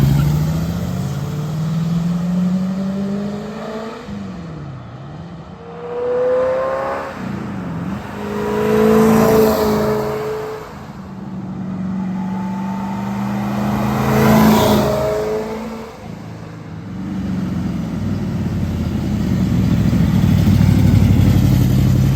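A 1968 Chevrolet Corvette convertible drives past in repeated flybys, its engine swelling loudly as it approaches and fading as it pulls away, with revving surges and a steady engine note between passes; no talking.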